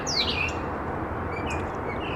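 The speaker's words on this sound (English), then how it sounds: "the birds are loud this morning" Loud birdsong in the morning, with high chirps and squawks repeating over a steady outdoor wash of background noise, close and continuous throughout.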